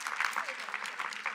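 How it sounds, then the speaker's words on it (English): A predominantly female audience at an awards and recognition luncheon claps briefly, a soft, muffled patter of applause that stays fairly even and distant. "give yourselves a round of applause"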